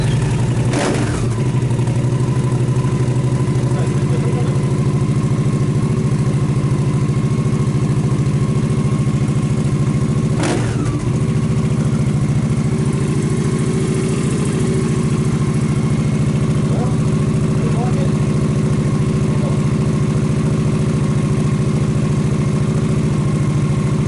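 A Honda Shadow VT750 motorcycle with a Leovince exhaust idles steadily, a loud, deep, continuous engine rumble recorded up close, with a couple of brief clicks and no talking.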